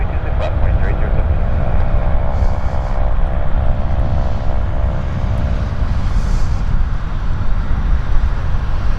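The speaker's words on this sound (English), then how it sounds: "We've got a little FedEx coming out, caravan, Cessna Caravan" A FedEx Cessna Caravan turboprop runs at an airport with a steady, loud broadband propeller roar and a faint tonal hum early on, continuous throughout.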